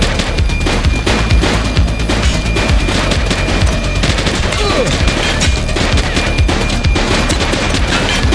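Sustained bursts of rapid automatic gunfire in the police video game The Precinct, loud and close, with rattling volleys and sharp shots running continuously, minimal voice.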